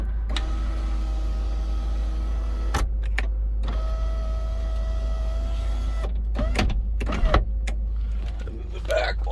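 Electric moonroof motor on a 2002 Land Rover Discovery II whirring steadily as the roof opens, with a second motor run after a brief pause and some clicks and clunks, heard up close inside the cabin.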